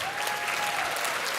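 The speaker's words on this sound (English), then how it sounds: "I think that's worthy of applause" Audience applause in a large ballroom at a medical school Match Day event, dense steady clapping from many hands, loud and continuous throughout.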